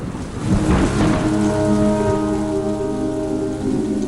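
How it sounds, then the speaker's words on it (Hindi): Heavy rain in a storm over Delhi NCR, a steady broadband wash of downpour with a low rumble near the start and tonal hum layered through; no voices. "दोपहर में मौसम ने अचानक करवट ली और आंधी बारिश से ही दिन में अंधेरा छा गया"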